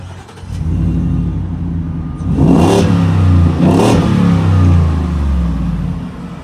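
A 775 HP Shelby F150 truck engine accelerates away, a deep, loud roar that swells through two rising revs before settling into a strong, steady pull.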